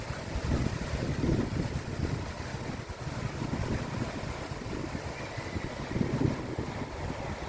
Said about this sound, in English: It's a crazy windy day.